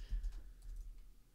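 Quiet typing on a computer keyboard, a short burst of soft rapid key clicks close by over a low background hum.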